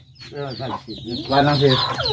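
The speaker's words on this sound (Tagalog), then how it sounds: "ang dami yung manok" Native chickens and chicks cluck in a busy, overlapping chorus close by, with a low steady hum running underneath.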